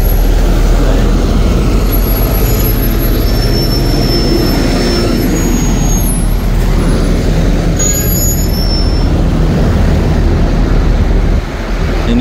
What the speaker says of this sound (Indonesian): Bis-bisnya yang mengangkut jamaah ya.